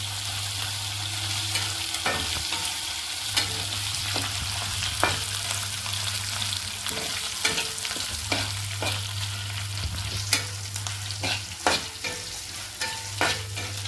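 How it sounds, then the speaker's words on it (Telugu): Ingredients for tamarind chutney fry in a pan with a steady low sizzle, broken by frequent sharp scraping and stirring clicks from a spatula, close by and moderately loud. "ఇట్లా వేయించుకుంటా ఇవండి"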